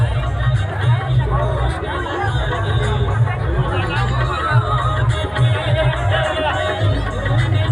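A crowd packs the street for a procession, a steady loud babble of many voices throughout, with no single voice standing out.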